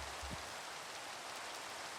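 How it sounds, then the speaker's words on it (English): Continuous rain in the video game Minecraft, a dense, even hiss that stays steady and fairly loud throughout, with a brief low thump near the start. "Okay, the rain's pretty annoying though,"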